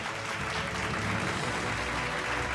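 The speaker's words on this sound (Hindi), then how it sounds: "जोरदार तालियां हो जाएं सर के लिए" Dense, sustained applause from a large audience at an education conclave, an even wash of many hands clapping together at steady loudness with no voices standing out.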